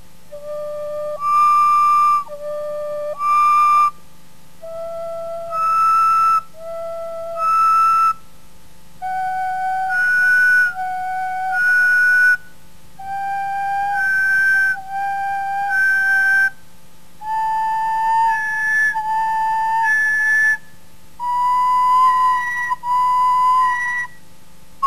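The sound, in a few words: penny whistle playing octaves from low D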